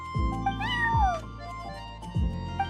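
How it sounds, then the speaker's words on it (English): A neighbor's cat named Charcoal meows in Genshin Impact, a close, clear drawn-out meow over soft background music with a few faint thumps. "I'm sorry, that's my neighbor's cat."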